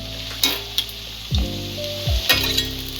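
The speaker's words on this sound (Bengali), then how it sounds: "হালকা করে আলুগুলো ভেজে নেব।" Potatoes fry lightly in a pan over low-to-medium gas for a jackfruit curry, giving a close sizzle broken by several clanking stir and scrape strokes.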